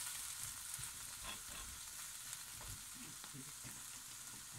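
Vegetables frying in a hot pan while being stirred to coat them in jalfrezi spice mix, a continuous close sizzle with soft scraping stirs and no talk.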